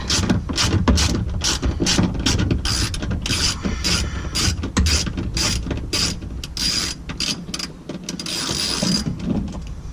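Liftgate bolts on a Ford Explorer are tightened with a hand ratchet, giving dense bursts of close, crisp clicking in short back-and-forth strokes that continue almost without a break, with no talk.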